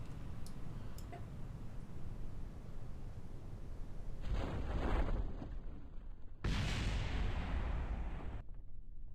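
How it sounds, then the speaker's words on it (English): Muffled far-off booms from rocket parts exploding in Kerbal Space Program, two rumbling bursts rising over a steady low hiss, with a faint ticking early on. "Distant explosions,"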